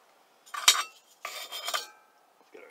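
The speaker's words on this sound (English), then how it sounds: "Get our stove flipped back over here." A metal alcohol stove for cold-weather camp cooking is handled and flipped back over. Two close clusters of light metallic clinks and scraping are separated by silence, with a faint rustle at the end.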